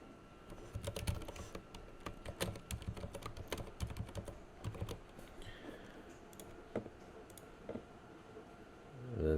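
Typing on a computer keyboard while entering an address into a web browser: a run of quick, close clicks and keystrokes, dense at first and then thinning into scattered taps.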